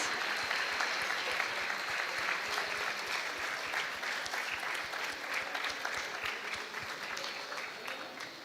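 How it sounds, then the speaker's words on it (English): A school audience at a Grade 9 performance of The Crucible claps steadily for the theatre crew gathered on stage. The applause is a dense, even patter of many hands, heard from some distance, with a few faint cheers mixed in. "A wonderful round of applause for our brilliant crew members."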